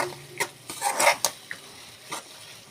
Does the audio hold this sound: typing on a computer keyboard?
no